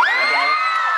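An audience of fans at a variety TV show cheers and screams, a bright sustained wall of high-pitched shrieks and whoops lasting about a second.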